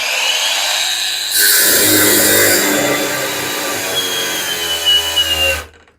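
A brushless cordless angle grinder, Grosser GAG 120N on a 2 Ah battery, whines loudly and steadily, its pitch dropping as it cuts under load, then spinning down to silence.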